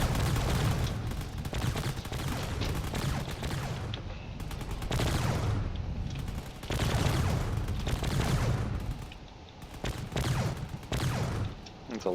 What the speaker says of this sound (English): There's a lot of explosions coming from the carrier off in the distance.